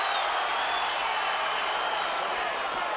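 A boxing crowd at a George Foreman fight gives a steady, dense roar of cheering and murmuring, loud and continuous throughout with no clear pauses.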